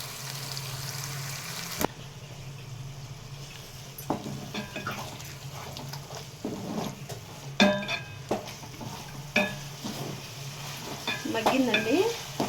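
A pan of chicken leg piece curry simmers with a soft, steady sizzle and bubbling, broken by scattered scrapes and clinks of a utensil against the pan, fairly quiet and close.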